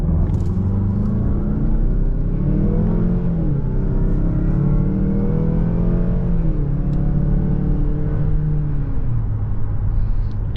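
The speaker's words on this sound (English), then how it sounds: "definitely a good amount of wheel spin from the front tires" A 2022 Mazda CX-9 SUV accelerating hard, heard from inside the cabin as a steady loud engine rumble that rises and shifts in pitch through the gears, with no talking.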